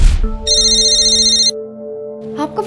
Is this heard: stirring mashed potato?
no